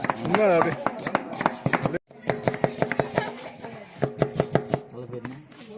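Knife chopping onions on a board for Bai-style vadi biryani, a run of sharp irregular taps with a short pause, under a background voice.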